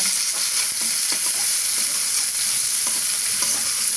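Chopped garlic and chili hit hot oil to temper dal, giving a loud, steady, close sizzle with crackling spatter throughout and no voices.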